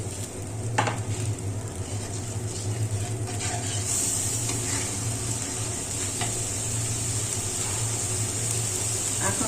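Spices frying in oil in a clay pot, a dense continuous sizzle with soft stirring scrapes throughout, close and fairly loud, with no talking.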